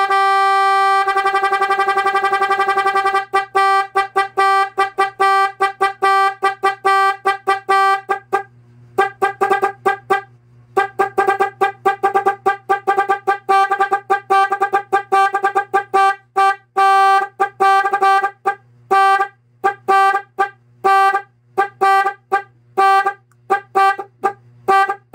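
A Nhay 3 Pro motorcycle music horn relay plays a loud, tonal melody of rapid beeping notes, steady at first, then choppy and staccato with brief gaps, over a faint low hum.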